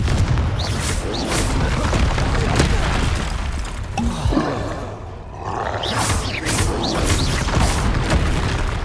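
In Hogwarts Legacy, a Confringo fire spell goes off: deep booming blasts and rumbling crashes sound close and loud, with a brief dip midway before the noise swells again. Voices are mixed in with the game sounds.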